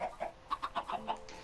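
Chickens in the Minecraft video game give a quick series of about six short, clipped clucks in an uneven rhythm, close and moderately loud over a quiet background.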